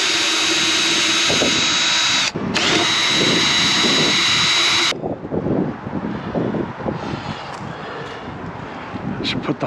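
Power drill whining loudly and steadily while driving fasteners into a wooden garden birdhouse, with a brief pause before it stops. Afterwards come shuffling handling noises and a person speaking.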